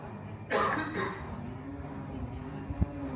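A couple of harsh coughs close by, followed by quieter background noise and a faint low hum.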